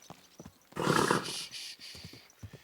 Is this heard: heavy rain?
no